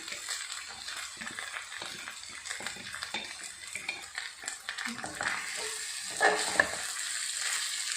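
Rice noodles stir-fried over high heat in a pan, with a continuous sizzle, rapid scraping and clattering of a utensil against the pan, close up and without speech.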